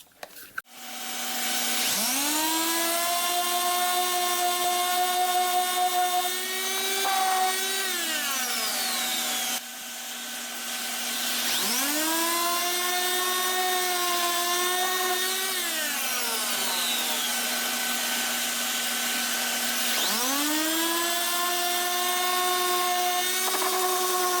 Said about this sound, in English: For the sanding, I'm going to start with 80 grit and then move up to 120 grit